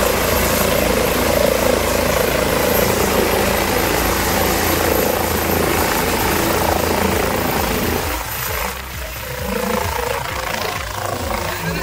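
A helicopter on a free joyride flies close by, its rotor and engine making a loud continuous chopping drone that eases somewhat toward the end as the craft moves off.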